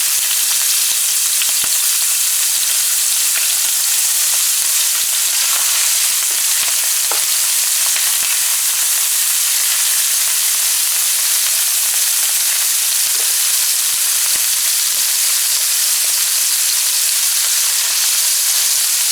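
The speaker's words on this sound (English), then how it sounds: "So we're gonna add our shrimp here first. So we are using raw shrimp." Raw shrimp crackle and sizzle steadily in hot oil in a pan, a loud, dense, continuous frying hiss with scattered pops throughout.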